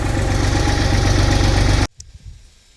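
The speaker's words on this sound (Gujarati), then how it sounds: "આપણે આપણું ટ્રેક્ટર અંદર લઈ લઈએ." A tractor engine drives into a cattle stable, a loud, steady, throbbing rumble that cuts off abruptly near the end, leaving only a few faint knocks and shuffles.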